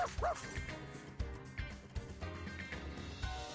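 A puppy gives a few high, excited yips over game music and sound effects, moderately close and layered under the busy background.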